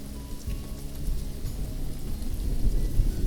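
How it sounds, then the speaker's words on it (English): Heavy rain pours steadily in a thunderstorm, with a low rumbling undertone of thunder swelling toward the end; dense, continuous and close, with no voices. "A huge storm came in that night, and it rained heavily for days."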